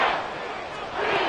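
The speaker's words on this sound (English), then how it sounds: "This crowd turning up the decibel level." A Madden 24 stadium crowd roars in a broad, continuous wave of cheering that dips briefly and then swells again.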